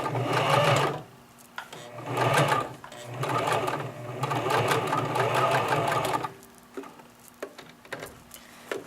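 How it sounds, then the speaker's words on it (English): A sewing machine stitches along the edge of a specialty pocket in several runs of rapid, even clatter, separated by short pauses and softer handling sounds, up close. "you're going to try to sew right on the edge"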